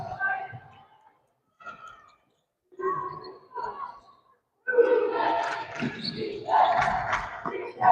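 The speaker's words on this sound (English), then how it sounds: "Defense cheer from the St." Home fans at a girls' high school basketball game in the stands chant a defense cheer. Short bursts of voices with gaps between them grow into a louder, sustained crowd cheer.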